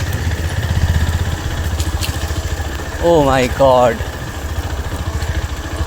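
A motorcycle engine idles and putters steadily throughout while riding through a forest, with a person briefly exclaiming over it midway.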